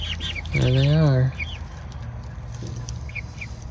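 Young chickens leaving their coop make a loud, drawn-out squawking call followed by softer scattered clucks and chirps, close by in a quiet outdoor garden setting.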